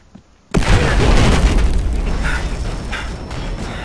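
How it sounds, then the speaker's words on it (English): After a brief quiet moment, a sudden loud boom erupts into a sustained roaring rumble that slowly fades, an explosion in the video game Battlefield Hardline. "I spawned in the middle of that explosion."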